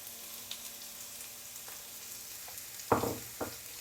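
Finely chopped onion with curry leaves frying in a pan for egg curry, a quiet low sizzle broken by a couple of sharp clinks and scrapes of a stirring spoon.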